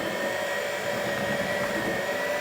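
An electric mixer whisks sponge cake batter for a steamed jam sponge, making a loud, steady, continuous whir close by with no talking.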